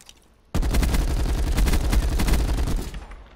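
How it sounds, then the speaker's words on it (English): Game gunfire rips through zombies, a dense rapid burst of shots starting abruptly and running near-continuously for nearly three seconds, loud and close, then cutting off with no talk over it. "I'm shooting zombies"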